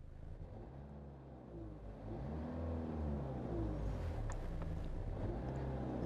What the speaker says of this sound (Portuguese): Vou pressionar o pedal do acelerador.